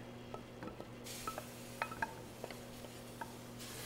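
Quiet scraping and light clinks of a utensil against a pot as roux is stirred into simmering wild mushroom soup, scattered soft taps over a low steady hum, no talk.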